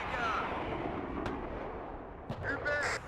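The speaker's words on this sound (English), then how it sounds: "you can hear on the backside the howitzers firing away" Howitzers fire in a military video game with armoured vehicles and marines, a distant heavy boom rolling under a steady battlefield rumble, followed by a sharper crack and whistling tones near the end.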